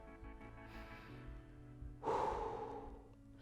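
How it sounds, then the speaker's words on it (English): A single strong exhale or gasp of heavy breathing after exertion in a hiking fitness workout, preceded by quieter breaths over a low hum, close and otherwise unvoiced. "Try and calm that breath down."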